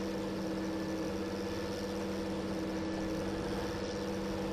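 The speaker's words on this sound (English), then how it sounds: "The engine noise on that Claas also drives me bananas." A Claas tractor engine in the Farming Simulator 2013 game drones steadily and evenly at a moderate level throughout, with no talk over it.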